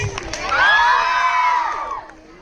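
A crowd of school children in a 6th-grade school assembly cheers and screams together in a loud, sustained burst of high shrieks and whoops lasting about two seconds before fading.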